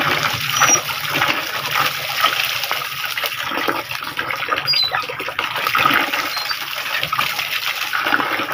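Ink is pumped out of the tank of an Epson L5290 printer with missing magenta output and a suspected faulty purge unit, a close, continuous wet gurgling trickle dotted with small clicks and bubbling pops.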